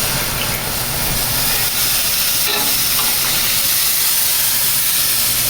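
A glass of water added to a hot pan makes loud, steady hissing and sizzling steam through the whole stretch, boiling up.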